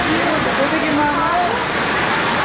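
Rushing floodwater in a flooded hospital parking lot in the Philippines, a steady loud roar of churning water with excited voices talking and exclaiming over it throughout.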